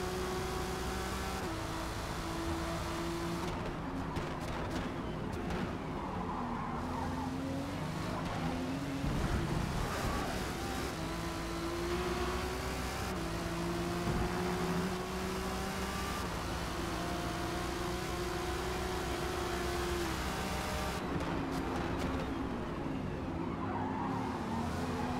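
Lamborghini race cars battle in Forza Motorsport, engines droning continuously with rising and falling pitch sweeps as gears shift, several cars close together, loud and steady throughout with no talk.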